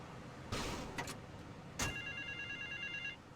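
Phone booth ringing in the video game GTA Vice City: a bright electronic ring tone repeats steadily through the second half, preceded by a few short noisy bursts, with no speech.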